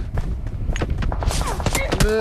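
Rapid bursts of PUBG Mobile gunfire crack repeatedly, with a sharp ricochet-like whine near the end, while someone talks over the shooting.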